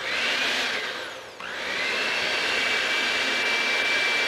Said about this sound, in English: I'm gonna get out my mixer. This is a little loud, but this is a very effective mixer.